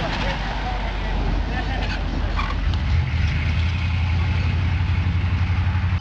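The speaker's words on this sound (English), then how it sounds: "This group dedicates themselves to restoring and maintaining old military vehicles. And on days like today, they get to take them for a drive." Restored old military vehicle engine idling with a steady low rumble that grows heavier after a few seconds, close and continuous, with crowd chatter faintly in the background.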